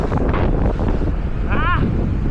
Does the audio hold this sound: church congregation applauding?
no